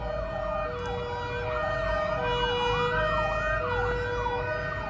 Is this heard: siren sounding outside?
yes